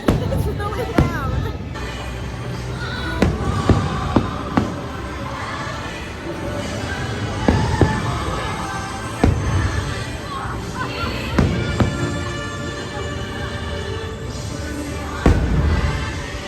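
Loud fireworks at Disney's Magic Kingdom boom and crackle in repeated irregular bursts over a constant murmur of a waiting crowd, with people talking nearby.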